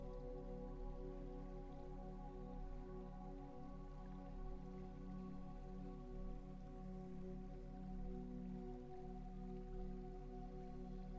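Steady rain falls on a lake, a dense even patter of drops over a sustained low tonal drone, with no voices for the whole stretch.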